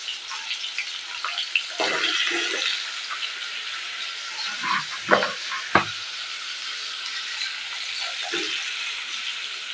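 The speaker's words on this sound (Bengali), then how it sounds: "এই পটল আলুটা আগে ভেজে নেবো লবণ দিয়ে" Pointed gourd and potato fry with salt in a pan, a close, steady hiss of oil punctuated by scattered stirring scrapes and a few louder sputters.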